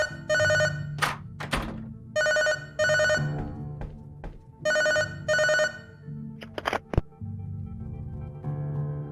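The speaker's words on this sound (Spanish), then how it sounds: "Teléfono." A telephone rings in the video game Lorelai: repeated electronic ring bursts in pairs, loud and close, broken by thumps and knocks.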